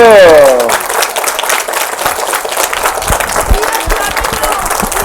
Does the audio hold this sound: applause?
yes